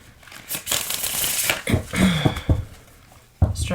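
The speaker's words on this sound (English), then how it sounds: "I'm finding these cards so hard to shuffle today" Tarot cards being shuffled by hand, a series of quick papery riffles and soft slaps in uneven bursts with brief pauses between them, close and fairly quiet.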